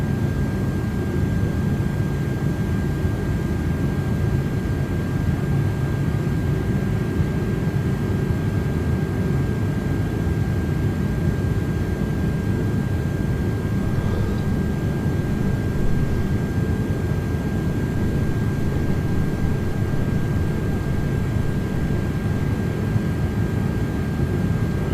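An Airbus Beluga XL in a flight simulator, cleared for takeoff on runway 13, produces a continuous, even roar of engine and wind noise that holds at a steady loud level throughout, with no voices.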